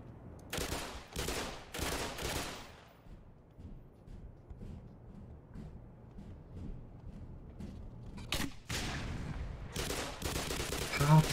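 An alien weapon fires in Black Mesa, bursts of rapid shots at the start, a quieter stretch of rumbling, then more sharp bursts near the end, with a voice talking in between.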